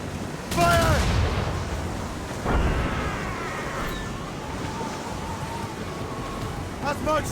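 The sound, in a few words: ship cannons firing in video game Assassin's Creed Rogue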